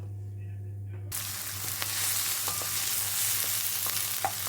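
Chopped onion in a few tablespoons of olive oil hits a hot pan for a beef stir fry, bursting into a loud, steady sizzle that continues while it is stirred, with occasional faint scrapes.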